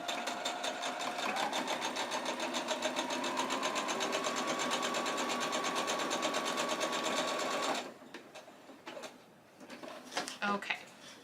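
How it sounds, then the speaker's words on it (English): A sewing machine stitches a straight seam across lining fabric with a fast, even mechanical whir for about eight seconds, then stops, leaving faint handling clicks and rustles, close by. "we're going to bring it together and then sew straight across"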